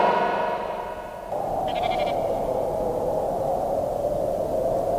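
Sheep and goats bleat in a farm setting, a steady, wavering cry that carries on throughout, with a brief higher bleat layered in midway; no talking.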